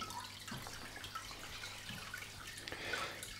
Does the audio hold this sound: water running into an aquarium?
yes